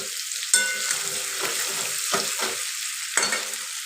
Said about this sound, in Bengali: এবারে নুন হলুদ দিয়ে দেবো দেখো আলুগুলো লাল করে ভেজে নিচ্ছি